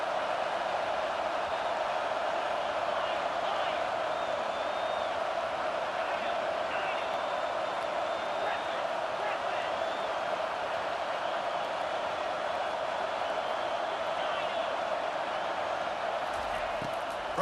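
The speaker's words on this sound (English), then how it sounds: "Decibels rising as the crowd gets behind this defense on 3rd down." A stadium crowd in a football video game roars on third down, a steady, dense wall of cheering noise that holds at a constant loud level throughout with no breaks.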